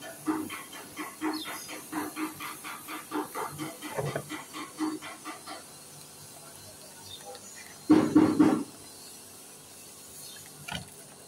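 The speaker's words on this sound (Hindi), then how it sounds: "भाप निकल रहा है" Steam hisses out of an overheated Lexus 5.7 engine in a rapid series of rhythmic puffs, then quiets before one loud, close burst and a final short spurt.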